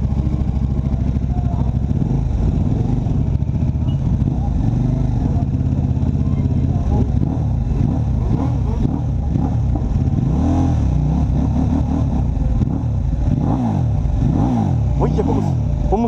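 A KTM RC8 1190 sport motorcycle with an Akrapovic full race exhaust revs hard and loud, the pitch climbing and dropping through repeated throttle blips, with a constant mechanical rumble throughout.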